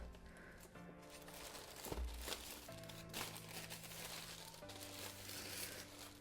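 Cardboard and plastic packaging of an Onexplayer G1 being opened, with faint crinkling and rustling handled close by, one brief thump, and a low steady hum running underneath.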